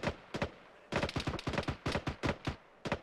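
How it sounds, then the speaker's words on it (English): Arma 3 gunfire rattles in repeated bursts, a short volley, then a longer run of closely spaced shots and a final pair, loud and close with no talking. "I bet they're shooting at the insurgents."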